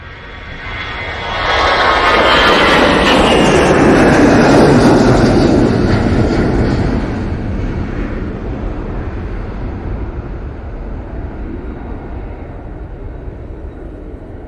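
Airliner departing Manchester Airport for Dalaman roars loudly down the runway and climbs, the jet rumble swelling to a peak then slowly fading into a long distant wash, no voices.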